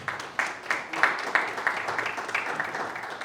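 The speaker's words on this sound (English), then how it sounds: "I think, round of applause." Applause from a small crowd, a steady patter of clapping with a few sharper claps early on, moderately loud.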